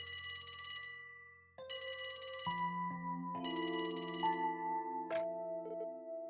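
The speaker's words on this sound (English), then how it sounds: "A phone call?" A telephone rings in The Legend of Heroes: Trails From Zero, a game with a police department setting: repeated bursts of electronic ringing over a soft, steady musical background, with no talk.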